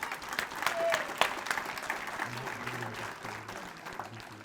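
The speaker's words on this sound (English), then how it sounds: "We need to give him a round of applause" An audience at a City of Newark ceremony honoring a featherweight boxing champion applauds the mayor, a steady moderate round of clapping with a few sharper claps, tapering slightly toward the end.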